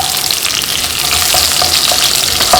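Dried red chillies and curry leaves fry in hot oil for a kadala curry, giving a loud, steady sizzle with a few sharper pops throughout.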